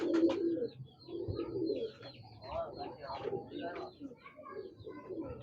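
Breeder Teddy pigeons coo softly and repeatedly nearby, low throaty burbling calls, while someone talks over them.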